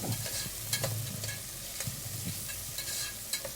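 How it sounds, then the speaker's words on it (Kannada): Field beans and tomato frying in a pan for palak rice, with a steady sizzle and repeated scraping stirs from a spoon, close and fairly loud, no voices. "ಇವಾಗ ನೋಡಿ ಅವರೆಕಾಳು ಮತ್ತು ಟೊಮೊಟೊ ಹಾಕ್ಕೊತಿದ್ದೀನಿ ಇದನ್ನು ಹಾಕಿ ಸ್ವಲ್ಪ ಫ್ರೈ ಮಾಡಬೇಕು"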